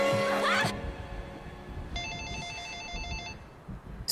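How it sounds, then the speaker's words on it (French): A telephone rings in the film Parasite, a repeated electronic trill in short evenly spaced bursts following a brief musical swell, with quiet room tone between rings. "Soudain, le téléphone sonne."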